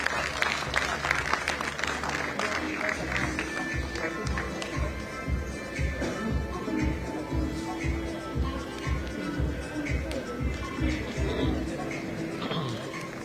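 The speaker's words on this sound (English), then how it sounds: "I request the audience to please keep clapping for our Rajasthan Ratna Bharat awardees." Audience clapping at an IT expo awards ceremony in Jaipur, a sustained patter of applause under music with a rhythmic beat and a voice over a public address system.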